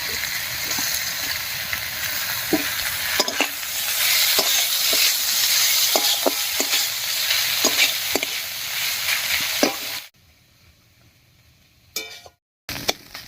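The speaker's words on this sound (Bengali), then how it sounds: "এবার এর মধ্যে ছাড়িয়ে রাখা ফুলকপিটা দেব।" Cauliflower florets fry in a pan of cooked-down spice paste, a bright steady sizzle broken by repeated scraping clicks of a spatula stirring, then the frying cuts out abruptly near the end.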